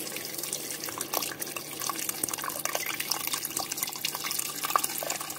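Water pours into a pot holding fried chicken pieces with spices, a continuous splashing, bubbling stream close by with small drips and gurgles, no talking.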